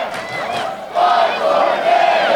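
A wrestling crowd at a Chris Knight versus Shaun Moore match roars in agreement, a loud, sustained chorus of shouting and cheering that swells after a brief dip.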